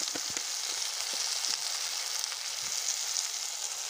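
Salt, turmeric and chilli powder frying in hot oil with new potatoes for a Bengali egg dum aloo, a steady close sizzle with a few light scrapes of stirring and no voices.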